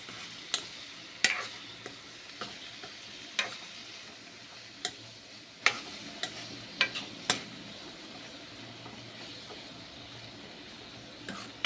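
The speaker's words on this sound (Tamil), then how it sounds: "தக்காளியும் வெங்காயமும் நல்லா கொஞ்சம் வதங்கட்டும்." Tomatoes and onions sauté in a pan with a soft, continuous sizzle, punctuated by occasional sharp clicks of a spoon stirring against the pan, close and quiet, without speech.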